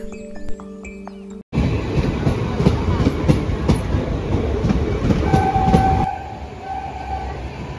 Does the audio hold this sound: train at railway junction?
yes